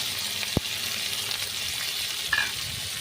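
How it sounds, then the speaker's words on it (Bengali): Dried shutki fish frying in white oil in a wok, a soft continuous sizzle with a sharp tap near the start and a brief stir scrape later. "এই কড়াইতে একটুখানি শুটকি মাছটা ভাজা ভাজা করে নেব"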